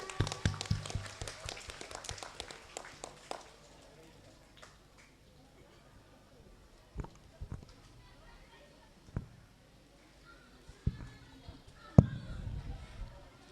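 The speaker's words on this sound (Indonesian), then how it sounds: "Kita beri tepuk tangan semuanya" An audience at a school alumni talk show in SMPN 1 Tahunan breaks into a short burst of dense clapping that fades after about three seconds, leaving scattered faint taps and thumps in a quiet hall.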